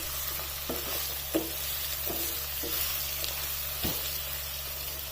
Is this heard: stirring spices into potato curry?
yes